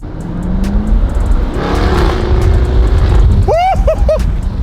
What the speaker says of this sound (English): Because you can let it redline a little bit higher to your liking, and that's where you get that growl